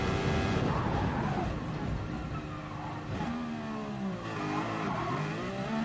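A Mercedes W08 Formula One car's engine drops in pitch as it decelerates into a corner, with falling downshift blips and a brief tire squeal, loud and close throughout.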